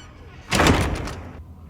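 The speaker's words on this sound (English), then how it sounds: "Close the door, please." A door is shut in a film scene, a single heavy, muffled thud-and-rattle lasting under a second, close and fairly loud, then quiet.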